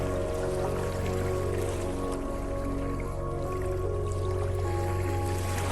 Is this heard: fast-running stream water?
yes